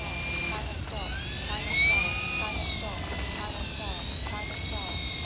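A FlightLine OV-10 Bronco model airplane flying with full ordnance fitted makes a steady electric whine from its motors, with pitch rising and falling as the throttle changes, heard close and continuous.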